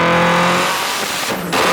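A 1000 hp Mitsubishi Lancaster Evolution IX engine revs hard up close, a loud rising roar with strong harmonic whine, briefly dropping before surging again.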